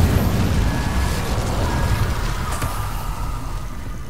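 An Incendio fire spell cast in Hogwarts Legacy gives a loud, sustained whooshing roar of flame that stays dense and steady throughout, easing slightly toward the end.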